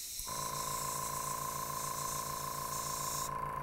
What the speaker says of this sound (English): as I increase the opening, now I've got it down to about here, I've got much more uniform